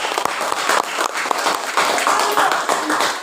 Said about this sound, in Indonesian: Berikan mereka tepuk tangan yang meriah.